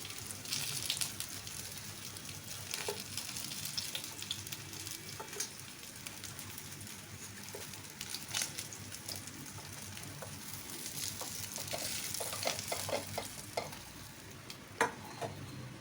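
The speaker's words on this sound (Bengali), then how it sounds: "মাছ ভাজার যে তেল রয়েছে তাতেই অ্যাড করে দিলাম 1 চামচ গোটা জিরে আর একটা শুকনো লঙ্কা ফোড়ন" Whole cumin seeds and a dried red chilli sizzling in leftover fish-frying oil, a steady crackling fry broken by occasional sharp pops and the scrape of stirring.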